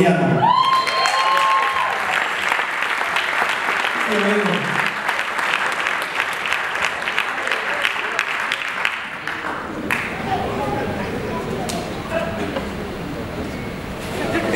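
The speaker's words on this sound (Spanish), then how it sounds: "Quiero que le regrese un aplauso muy fuerte al Jaime, por favor." Audience applause at an acoustic concert of original music, a full, sustained round of clapping that holds steady, then thins and grows patchier toward the end; a voice and a brief sung or spoken tone come through early on.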